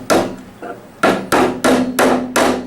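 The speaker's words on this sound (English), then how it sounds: "Then we're going to slip the pins in over it and hammer them into place." Pins are hammered into place on a wooden chest: six sharp, ringing hammer strikes land close and loud, spaced roughly a third to half a second apart, with no talking.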